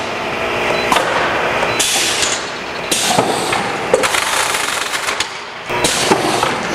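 A Wexxar WF20T case erector forming a cardboard case, giving a loud, busy run of mechanical clatter, pneumatic bursts and sharp knocks that continues throughout with brief dips.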